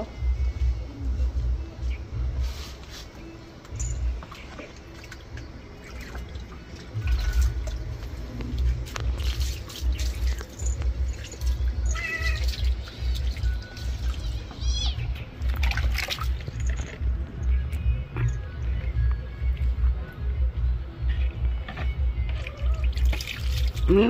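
Running water pours steadily while a pet cat is bathed, with the cat's meows and occasional louder splashes mixed into the continuous flow.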